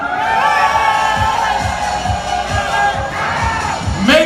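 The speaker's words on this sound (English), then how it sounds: "Make some noise for the GTR!" A large live crowd at a motor show cheers and shouts loudly for the Nissan GTR, with rhythmic stomps or claps pulsing beneath a sustained roar.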